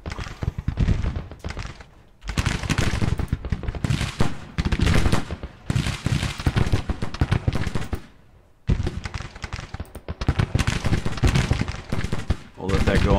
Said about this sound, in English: Here comes his artillery. All right, skirmishers are engaged.